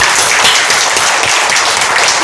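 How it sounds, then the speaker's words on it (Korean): A congregation claps loudly during a Sunday worship service, a dense, continuous wash of hands close up with no voices heard. "믿어지면 박수를 하나님께 합니다."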